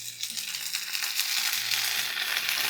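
Green chillies, garlic and coriander sizzle steadily in a hot pan, a continuous close frying hiss with faint stirring scrapes and no talking.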